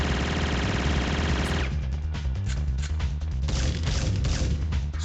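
Rapid bursts of gunfire from the Syphon Filter video game, loud and dense, with sharp repeated shots over a steady game soundscape and no talking.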